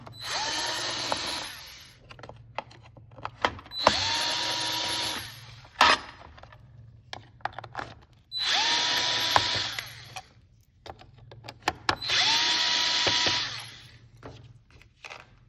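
Power drill backing out the four screws of a Minn Kota Ultrex trolling motor steering sensor, coming in three long whirring bursts separated by quiet gaps with small clicks and handling noises, close and loud.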